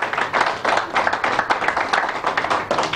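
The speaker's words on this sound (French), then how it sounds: "On les applaudit très très très fort en tout cas" An audience claps loudly at a conference supporting reconstruction efforts in the DRC, a dense continuous patter of many hands with no break.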